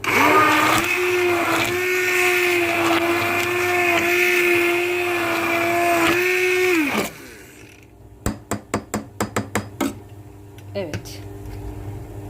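An electric whisk beats a milk pudding mixture with a steady loud whine for about seven seconds, then cuts off, followed by a run of quick clattering knocks of the whisk against the bowl.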